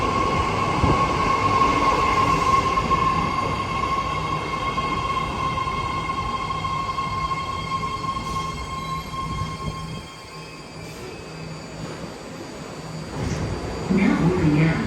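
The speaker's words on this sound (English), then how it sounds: "this is the Green Line 6-car Berryessa train approaching platform number 1." A six-car Green Line light rail train to Berryessa in North San Jose rolls up to a station platform, a loud steady rumble with a sustained tonal whine that eases as it slows, then brief squeals near the end.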